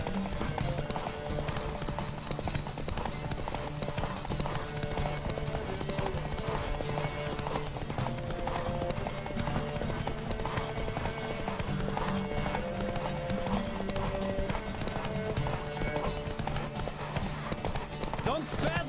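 Hooves pound in a fast, continuous gallop during a horse race in The Witcher 3: Wild Hunt, loud and close, with a horse's whinny and voices mixed in over the rhythm.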